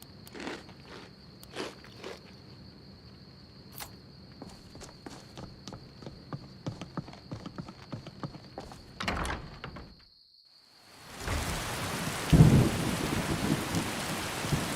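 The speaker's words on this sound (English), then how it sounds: "Heavy rain?" A video game downpour with thunder: scattered footstep-like knocks and clicks over a thin hiss, a brief near silence, then a loud wash of heavy rain with a deep thunder rumble swelling in.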